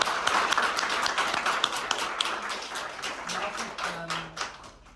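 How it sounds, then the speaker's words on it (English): Audience applause at a robotics reading club talk, a steady patter of many hands clapping, moderately loud and even, tapering slightly toward the end with a hint of voices underneath. "let's give another round of applause to Ryan."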